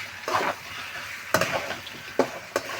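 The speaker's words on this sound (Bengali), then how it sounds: "এখন কষাবো অনেকক্ষণ ধরে" Chicken curry made with country chicken frying in hot oil in a pan, a soft sizzle punctuated by four distinct scraping stirs of a spoon, close and fairly quiet with no talking.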